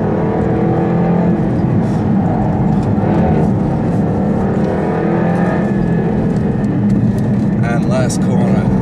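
A fast car's engine roars loudly and steadily as it accelerates hard around a race track, with someone talking excitedly over the continuous drone.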